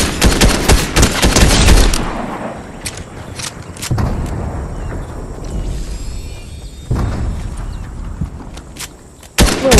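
Bursts of gunfire in a Fortnite match, a loud dense volley at first, then scattered distant shots and crackles, with another sharp burst at the end.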